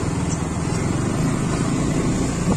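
A car drives through a small water crossing on a hill trip near Nainital. A steady, loud engine-and-road rumble runs throughout without pause.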